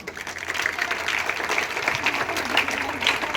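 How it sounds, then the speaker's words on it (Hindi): A crowd at a school Independence Day celebration claps steadily with dense, sustained applause filling the room, a few sharper claps standing out. "मैं चाहूंगी एक बार आप उनके लिए तालियां बजाएं"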